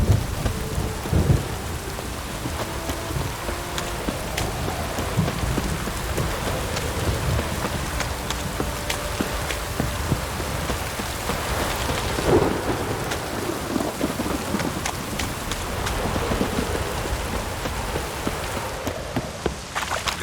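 Continuous heavy rain pouring down with rolling thunder rumbling throughout in the game The Witcher 3: Wild Hunt, loud and close, no voices.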